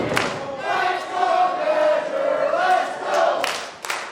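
A wrestling match crowd roars and chants in a sustained, swelling wave of voices, loud and continuous for a few seconds.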